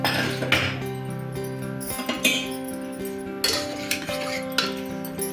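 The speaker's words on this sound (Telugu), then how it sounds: "కుక్కర్ ఓపెన్ చేశారండి" Metal clinks and ringing clanks of a pressure cooker lid being worked open, several knocks with lingering metallic ring, no voices.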